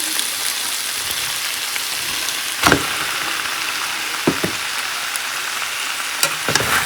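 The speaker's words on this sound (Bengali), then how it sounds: "এবার এর মধ্যে দিয়ে দিচ্ছি পাস্তা" Pasta tossed into a pan of vegetables and tofu fries with a steady, close sizzle, broken by a few sharp clatters and stirring knocks near the middle and end.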